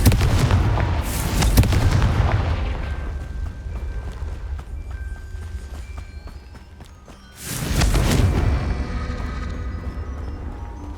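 Confringo spell blasts in Hogwarts Legacy go off as booming explosions, one loud burst near the start and another around the eighth second, with crackling debris and rumble trailing into quieter ambience.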